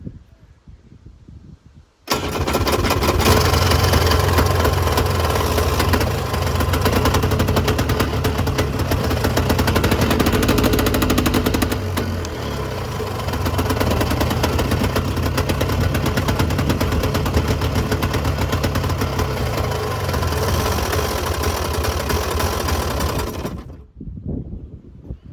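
A Polaris Trail Boss 350 ATV, abandoned for 15 years, starts on choke and settles into a loud, rough, rapid-fire idle close by for about twenty seconds before cutting off.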